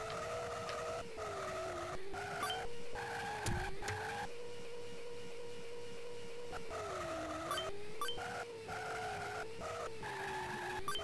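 Tiny toy cars race across a snooker table in Micro Machines 2: Turbo Tournament, a steady whining engine drone rising and falling with repeated tire squeals and skids, no talk.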